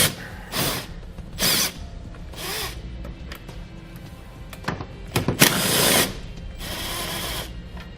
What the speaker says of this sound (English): We'll now remove both the bolts located behind it with a 10mm socket.